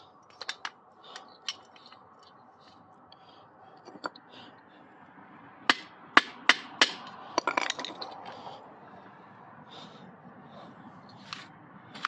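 Metal tapping from a flathead screwdriver being beaten under a dented part on a CT100U, a run of sharp clinks, several spaced out and then a quick cluster in the middle, close and fairly quiet with no talking.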